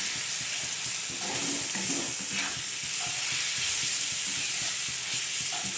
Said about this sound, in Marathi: आता हे चांगला तेलामध्ये असा एक जीव परतणार आहोत